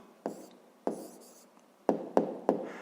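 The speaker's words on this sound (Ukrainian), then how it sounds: "Зараз записуємо відповідь." A pen writes an answer in a school maths exercise, with five sharp strokes in an uneven rhythm, each fading quickly, close and clear with no voices.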